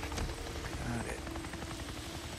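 Steady chopping rotor drone of a helicopter in the video game Days Gone, a continuous whir with game ambience, fairly loud throughout.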